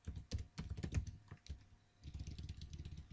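Quick bursts of typing on a computer keyboard, close and crisp, with a clatter of keystrokes, a brief pause, then another rapid run of taps.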